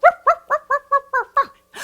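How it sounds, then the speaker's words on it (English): A dog named Rover barks, heard as seven quick, evenly spaced yaps close to the listener, loud, with a short gap before a final burst of noise. "And if that dog named Rover don't bark"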